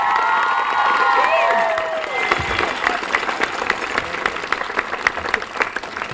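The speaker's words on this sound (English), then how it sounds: "Everyone give her a round of applause." A crowd at an educational rally for New Bedford Public Schools claps, and children shout and cheer, the noise swelling at first and then settling into steady, uneven applause. Voices call out over the clapping.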